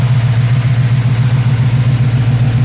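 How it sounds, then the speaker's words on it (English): A 1972 El Camino idling with headers feeding its exhaust, a loud, close, steady rumbling burble with an even pulsing throb and no voices over it. "beautiful sounding exhaust with headers"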